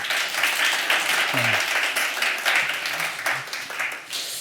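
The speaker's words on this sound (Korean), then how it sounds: "우리 박수로 한번 환영하시겠습니다" Church congregation at a Christmas worship service applauding to welcome visiting pastor couple; steady broad clapping fills the whole stretch, with a brief voice murmuring partway through.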